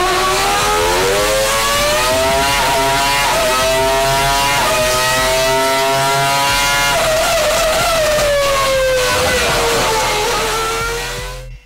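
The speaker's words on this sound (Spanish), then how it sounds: "Las personas al oír este ruido en el motor flipaban al verlo." A 2.4-litre racing engine making 775 horsepower screams at around 20,500 rpm, a loud, sustained, piercing wail that holds high, shifts pitch slightly, then tapers off at the end.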